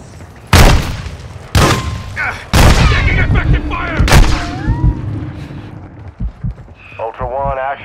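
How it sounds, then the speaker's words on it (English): Several heavy gunshot booms from the Call of Duty DMZ game on Ashika Island, loud and irregular, mixed with bursts of fire, whooshing effects and voices talking over the action. "Taking fire!"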